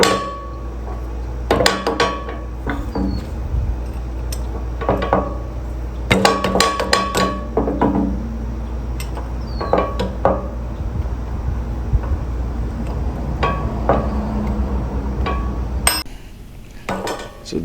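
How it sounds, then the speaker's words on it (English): A gearbox lock ring struck repeatedly with a plastic-handled screwdriver gives sharp, close knocks in irregular bursts separated by short pauses, with no talking. "I was wasting my time here trying to beat it off with a plastic handled screwdriver"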